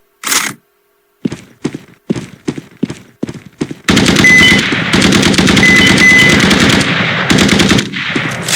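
Video game gunfire during a playtest: a string of single sharp shots at a steady pace, then a loud unbroken burst of rapid automatic fire that runs for several seconds before stopping.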